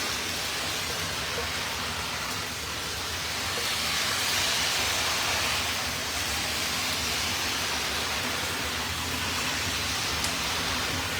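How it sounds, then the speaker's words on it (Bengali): A loud, unbroken roar of heavy rain falls in New York, broadband and close, swelling slightly in the middle before settling back to a constant downpour with no talking. "এই মুহূর্তে ভালো ভারী বৃষ্টি আমরা দেখতে পাচ্ছি।"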